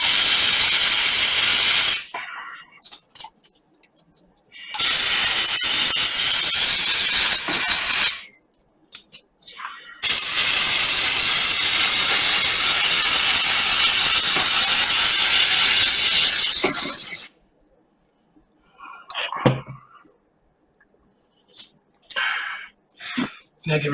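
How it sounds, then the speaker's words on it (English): Compressed air blasting dust and dirt out of a graphics card heatsink in loud hissing bursts, three long sprays separated by pauses, followed by a few short puffs and faint handling noises. "Blow all the dust and dirt out of it."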